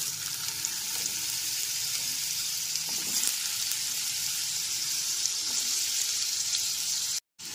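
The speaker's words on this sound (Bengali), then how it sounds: "আলুর টুকরোগুলোকে 3 থেকে 4 মিনিট ধরে ভেজে নেব।" Potato pieces fry in hot oil over a high flame, giving a constant close sizzle and hiss that holds steady throughout before a brief cut near the end.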